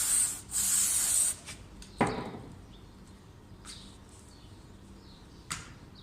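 Brake cleaner sprayed from an aerosol can onto a Nissan X-Trail air intake hose: a loud hiss of about a second near the start, followed by scattered quiet clicks and rubbing sounds.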